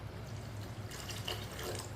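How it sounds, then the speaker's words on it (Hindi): Half a glass of water poured into lentils for masoor dal gives a soft, steady pouring rush that brightens after the first second, faint and continuous with no voices. "आधा गिलास पानी और डाल लेंगे।"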